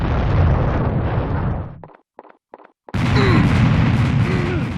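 A cannon's nuke ball detonates in the Serious Sam video game: a loud, roaring broadband blast that cuts out into near-silence with a few faint crackles, then another heavy rumbling burst rolls in.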